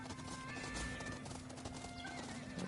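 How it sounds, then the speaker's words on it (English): Horse hooves clip-clop beneath a neigh and whinny in the video game Ghost of Yotei, set against a steady game soundtrack that runs throughout at a moderate, even level. "Oh, we get horses."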